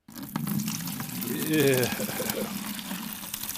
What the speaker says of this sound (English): Let me just pour this into a bucket for you.